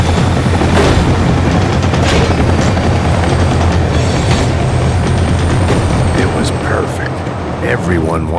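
A tram rumbles past in the video game Max Payne 3, a loud, steady low rolling roar with clattering and metallic bangs throughout, under the din of gunfire-like booms and game action.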